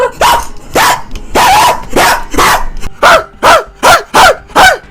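A human voice imitates a dog with a run of loud, close, harsh barks, about ten in a row, speeding into a tight rhythmic pattern toward the end.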